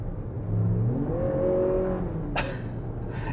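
A 2024 Lexus RX 500h F Sport accelerating in sport mode, its engine note rising steadily and loud and close, followed by a short burst of brighter noise near the end.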